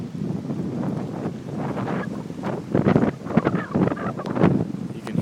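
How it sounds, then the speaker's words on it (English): Strong wind gusts of 60 to 70 mph howl through a residential neighborhood in Anchorage, Alaska, a loud continuous roaring rush that surges into heavier buffeting bursts partway through. "And the winds are still just howling through the neighborhood."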